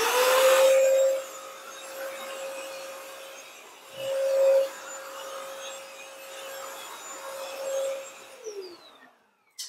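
A cordless all-in-one vacuum cleaner and mop runs steadily on an area rug, giving a close, even motor whine with brief louder surges before it winds down at the end.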